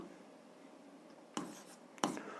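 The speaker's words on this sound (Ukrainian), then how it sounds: "Пишемо 2." A few brief strokes of writing on a board or paper during a 7th-grade algebra lesson: two short, scratchy bursts close together, fairly quiet, with no talking.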